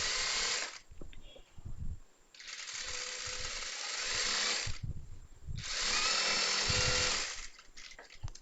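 A sewing machine stitches churidar fabric in three sustained whirring runs, separated by short pauses filled with faint handling noises.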